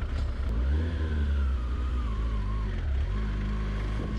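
A 30-year-old GTS motorcycle with 75,000 miles pulls away, its engine note rising in a steady rev with a rumbling low end and wind noise, loud and close.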